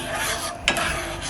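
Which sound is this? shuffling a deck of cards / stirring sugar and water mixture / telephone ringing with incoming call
stirring sugar and water mixture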